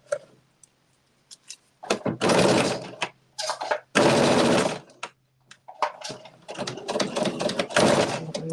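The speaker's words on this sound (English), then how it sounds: "put my needle down, and I'm going to back stitch" Sewing machine back stitching around the bottom of a fabric pocket, running in several loud bursts of rapid stitching separated by brief pauses and short slow runs, close by.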